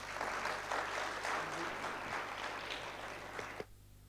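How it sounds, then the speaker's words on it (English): A law conclave audience welcomes panelists with a steady round of applause, a continuous wash of many clapping hands at moderate distance that cuts off abruptly near the end, leaving low room hum. "please welcome our panelists with a huge round of applause"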